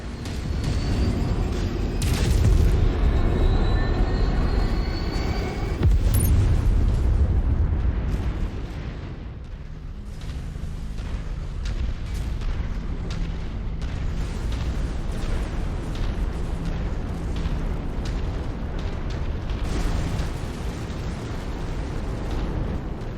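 A ship's reactor exploding in a video game, with a deep, loud rumbling blast near the start that rolls on into a sustained roar and crackling debris, which slowly settles into a lower continuous rumble.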